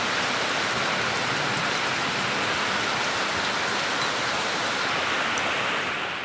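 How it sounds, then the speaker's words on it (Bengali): Heavy rain pours down in a dense, constant hiss that stays loud and unbroken throughout. "এখনও বৃষ্টিটা কমেনি খুব জোর বৃষ্টি পড়ছে"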